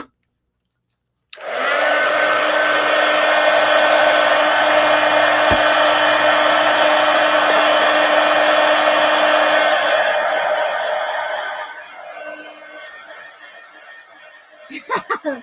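A hair dryer blows steadily over a mixed media collage, a loud, continuous whooshing drone that starts abruptly and runs for about ten seconds before tapering off, followed by a few faint clicks near the end.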